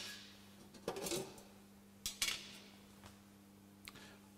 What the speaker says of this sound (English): Remove the grill from the drip tray.